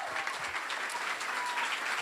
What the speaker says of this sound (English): One more round of applause for you guys for that.